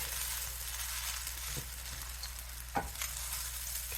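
Roughly three pounds of fried rice being stir-fried in a large batch, a steady loud sizzle throughout with occasional scraping stirs of the spatula near the end, no talking.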